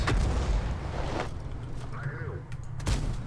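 Artillery fire in World of Tanks, a loud booming impact at the start followed by a second blast near the end, with rumbling battle noise and some voice between.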